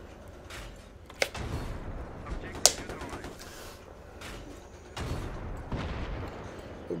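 Battlefield 3 combat noise as an empty enemy tank is attacked: two sharp cracking hits a little over a second apart, then a heavier rumbling blast midway, amid ongoing battle din.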